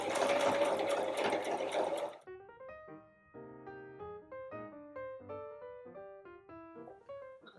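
A sewing machine stitching a fleece hem, a loud steady whir at first, then stopping, followed by soft musical tones in the background rather than stitching.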